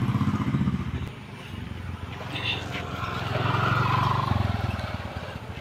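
A scooter engine runs on the road with a steady, fairly loud drone that swells and falls slightly as it rides, with some rattling and wind noise around it.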